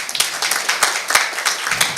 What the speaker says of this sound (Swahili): Simjipigie makofi.